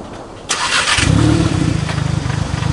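A Volkswagen MK7 GTI with a CTS turbo and intercooler cranks with a burst of starter noise and catches, settling into a loud, close, pulsing idle.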